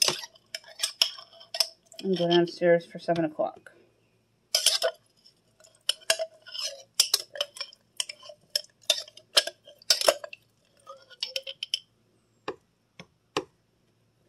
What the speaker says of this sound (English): I'm going to wash up some dishes